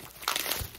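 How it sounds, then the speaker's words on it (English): Bubble wrap packaging around an iconic Golden Age comic book is handled close by, giving a burst of dense crinkling and crackling that rises midway and carries on without talk. "Lots of bubble wrap. Taking out the scissors to cut through that."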